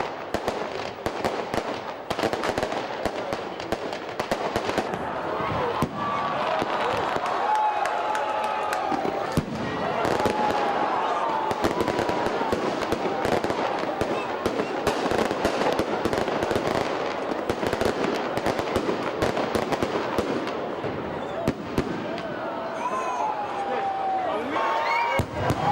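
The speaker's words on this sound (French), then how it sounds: "et c'est le ballet des feux d'artifice" New Year fireworks over Ouagadougou crackle and pop densely and continuously for the whole stretch, with a crowd murmuring underneath.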